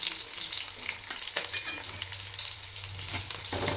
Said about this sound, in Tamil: நல்லா ப்ரௌன் கலரில் ஆகிற வரைக்கும் நல்லா ஃப்ரை பண்ணி எடுத்துக்கலாம்